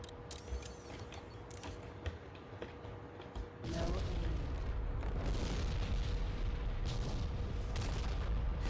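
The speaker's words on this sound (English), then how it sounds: "this missile is so powerful, it can apparently obliterate the entire asteroid" Massive missile explosion shattering an asteroid in the space game X3, a deep rumbling boom that erupts suddenly after quieter engine hum and then roars on as a dense, sustained low blast.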